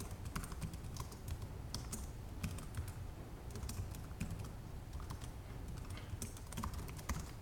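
Rapid, steady typing on a computer keyboard fills the whole stretch, with close, crisp key clicks in an uneven rhythm and no talking.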